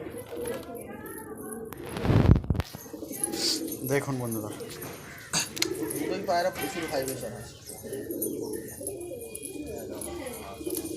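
Andhra pigeons coo softly in the background of a large pigeon loft in Kolkata while people talk over them, with a brief loud burst of noise near the start.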